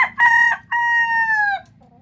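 Golden boy sweater gamecock rooster gives one loud, close crow, a short opening burst followed by a long drawn-out note that trails off, with low background noise after.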